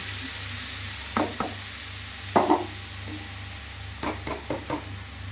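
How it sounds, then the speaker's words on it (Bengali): Carrot and cabbage fry gently in a little oil in a wok over a low gas flame, a soft steady sizzle broken by several short scraping stirs of a spatula, with no talking. "তো এটাকে একটু নাড়াচাড়া করে নেব তেল হালকা কড়ায়"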